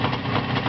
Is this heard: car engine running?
yes